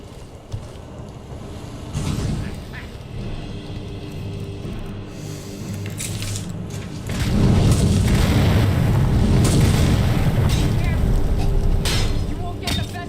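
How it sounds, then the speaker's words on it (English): A Flame Atronach in Skyrim explodes with a deep, roaring boom in the middle of combat, a sustained blast of rumbling noise that follows quieter fighting sounds and swells loud for several seconds. "Blown up by an exploding Atronach."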